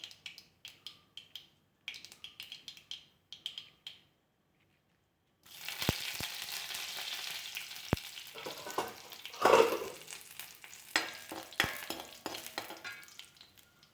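After a few light taps, a loud burst of sizzling erupts as curry leaves and dried chilies hit hot oil for watermelon pachadi, crackling steadily with a sharp pop partway through.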